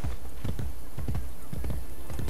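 Horse hooves clip-clopping at a steady trot in the Assassin's Creed Brotherhood video game, a close, continuous run of hoofbeats with no talking.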